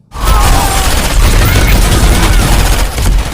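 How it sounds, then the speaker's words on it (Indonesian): Loud, dense gunfire erupts outside a house after a brief silence, rapid overlapping shots and booms continuing without pause. "Mendengar suara tembakan"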